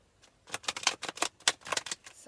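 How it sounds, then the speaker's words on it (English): Tarot cards being shuffled by hand, a quick run of crisp riffling bursts and taps, close and clear, with no talking. "I'm going to give the cards a good shuffle."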